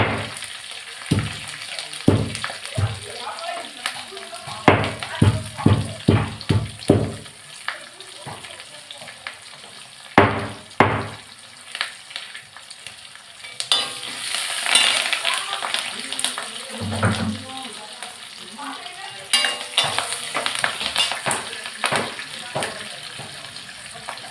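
Crushed garlic frying and stirred in a pan while making vendakkai puli kulambu, with crackling sizzle, scraping spoon strokes and bursts of clatter, plus brief tap-like water noise midway.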